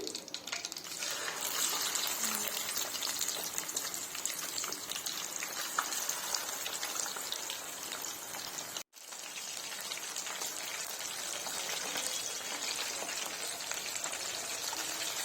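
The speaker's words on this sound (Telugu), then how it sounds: "నెక్స్ట్ బ్యాచ్ ఉంది కదండి మన దగ్గర వాటిని కూడా డీప్ ఫ్రై చేసుకోవాలి" Chicken leg pieces sizzle steadily in deep-frying oil, a dense, even crackle of bubbling that continues without a break, briefly cut once, with no voices.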